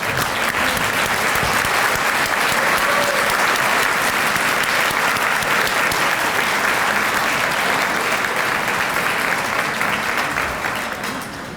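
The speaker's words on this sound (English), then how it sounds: "receive a well-deserved round of applause" Sustained, loud applause from a dinner crowd at an awards banquet as chapter officers stand, dense clapping that carries on evenly and tapers slightly at the end.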